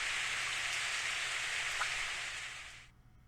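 Steady rain from the video game Steins;Gate hisses as a dense, even wash of drops, continuous and fairly close with no talk, then cuts off abruptly near the end into near silence.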